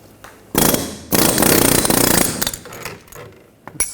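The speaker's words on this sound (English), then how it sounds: "Just using an air hammer, or you can use a punch." Loud bursts of rapid pneumatic hammering from an air hammer punching out the rear axle of a Ford Escape, one short and one longer, followed by fading clatter and a sharp knock.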